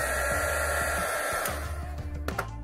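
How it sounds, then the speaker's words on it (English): A heat gun shrinking heat-shrink tubing over a wire connector for an LED switch, giving a loud, steady blowing whir close by that continues throughout. "Then I use the heat gun to slightly shrink it"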